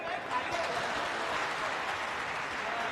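Dense, continuous applause from an audience at a literature festival poetry recital, fairly distant and steady throughout, no voices standing out.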